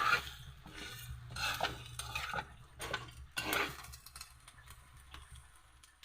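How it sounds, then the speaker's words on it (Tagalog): A spoon stirs pork leg frying in its own rendered fat in a pan, giving intermittent scraping strokes with soft sizzling underneath, close and fairly quiet. "Igigisa natin sa sarili niyang mantika."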